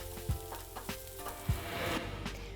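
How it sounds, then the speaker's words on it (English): Shallots sautéing gently in a pan, a steady soft sizzle broken by a few knocks and scrapes of stirring, close by and with no voices. "So now we're just gonna saute the shallots about 6 or 7 minutes."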